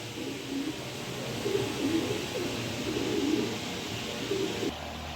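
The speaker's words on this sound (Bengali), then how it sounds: "আমাদের সোনারগাঁয়ের বাইরের কবুতর।" Racing pigeons of a local Sonargaon strain coo in repeated low, throaty phrases, fairly close, over a steady background hiss with no talking.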